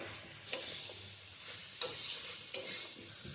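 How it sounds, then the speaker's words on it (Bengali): Chicken pieces stirred in a pan cooked without oil, a soft sizzle under three sharp scrapes of a spoon against the pan, close and fairly quiet, no talking. "এবার সবগুলো মিলিয়ে ভালো করে নাড়বো।"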